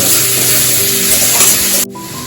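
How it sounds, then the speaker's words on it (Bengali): Potatoes and onions fry in a pan with a loud, steady hiss and crackle that cuts off abruptly near the end. "আমি এখন আলুটা ভাজা ভাজা হয়ে গেল, পেঁয়াজ ভাজা ভাজা হয়ে গেল"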